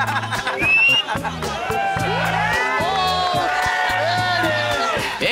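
A crowd at a chowder festival cheers and shouts loudly and steadily, with whoops and excited voices layered over one another for several seconds.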